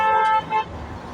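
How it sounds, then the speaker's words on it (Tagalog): Car horns honk several times along a roadside in Abu Dhabi, UAE, two loud toots close together over a steady hum of passing traffic. "bumubusi na yung mga sasakyan guys"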